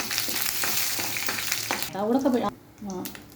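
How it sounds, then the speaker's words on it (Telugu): Mustard seeds, cumin, urad and chana dal, dried chilies and curry leaves temper in hot oil with a loud crackling sizzle, then a short burst of voice-like sound and a quieter tail. "ఆవాలు, జీలకర్ర, మినప్పప్పు, పచ్చిశనగపప్పు, ఎండుమిరపకాయలు, కరివేపాకు నూనెలో ఒక్కరవ వేగనివ్వాలి"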